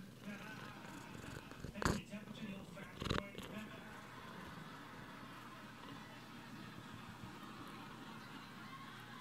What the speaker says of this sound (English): I came up to her and she started purring.